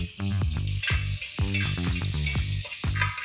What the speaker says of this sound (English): Now after sauteing the onion for a minute